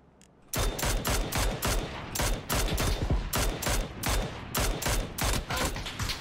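Automatic gunfire in the video game PUBG, loud rapid bursts of shots repeating in quick succession after a brief quiet start, close and sharp.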